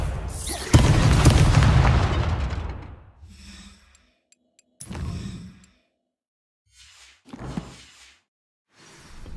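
Confringo explosion spells blast in Hogwarts Legacy, opening with a long, loud booming roar that decays over a few seconds, followed by shorter, fainter bursts at intervals amid quieter gaps.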